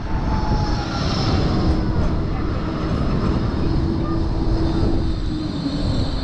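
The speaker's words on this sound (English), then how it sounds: "arriving in now is going to be one of the Blackpool trams" A Blackpool tram pulls into the Burlington Road West tram stop, a steady, loud rolling rumble with a faint rising whine and continuous outdoor noise.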